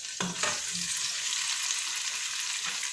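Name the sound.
meat adobo cooking, sizzling in pan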